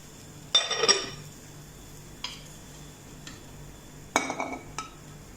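Cooked vegetable pulao rice dished out in a home kitchen, with a few light clinks and taps of a serving spoon against a metal pot and plate, scattered across otherwise quiet room tone.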